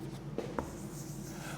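A black pen scratches across paper in a few short, soft strokes, close by and quiet, with a brief tap partway through.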